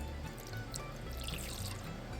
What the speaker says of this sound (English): We're supposed to use white vinegar and cover it up.